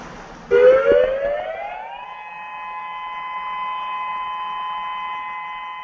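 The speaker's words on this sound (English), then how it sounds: "This is the tsunami warning siren." A loud tsunami warning siren winds up from a low pitch to a high, steady wail and holds there, droning continuously.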